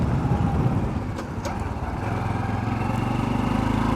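A Honda CT125 Hunter Cub motorcycle, fitted with a new chain, sprockets and tyres, pulls out of a turn, its small single-cylinder engine droning steadily and close with a faint rise in pitch, alongside light wind noise.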